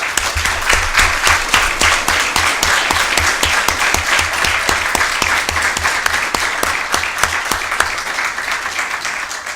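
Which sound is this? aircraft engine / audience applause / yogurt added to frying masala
audience applause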